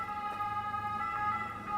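An ambulance siren sounds in a Venice street at dusk in the Cannaregio district, a steady wailing tone heard from some distance over quiet ambient noise.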